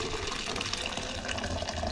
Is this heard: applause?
no